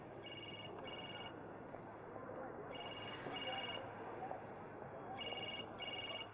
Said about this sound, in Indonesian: Aku mau menjawab telepon.